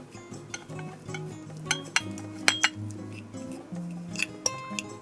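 Boiled egg yolks mashed in a bowl for keto deviled eggs, heard as a run of sharp, close clinks and scrapes of utensil against dish with brief pauses between strokes.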